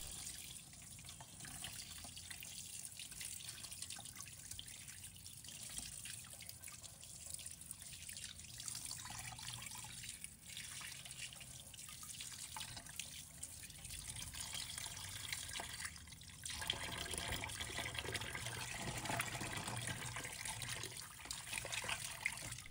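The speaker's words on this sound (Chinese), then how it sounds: "再清洗一下，要确保鱼体干净。" Ribbonfish is rinsed under a running kitchen tap, a faint, steady stream of water splashing and trickling into a sink throughout.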